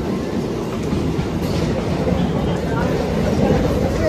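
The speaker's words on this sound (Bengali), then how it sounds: "ট্রেন চলে এসছে।" A train pulls into a station with a loud, continuous rumble and rolling wheel noise close by, steady throughout with a faint squeal.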